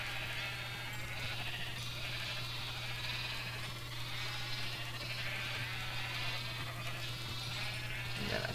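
Sheep in a Minecraft sheep farm, where they are bounced up by water, give a steady mass of overlapping bleats that blurs into a constant chorus, with a low hum underneath.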